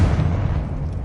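In Hogwarts Legacy, a Confringo fire-blast spell detonates as a deep, rumbling boom that stays fairly loud, then slowly thins out over roughly a second.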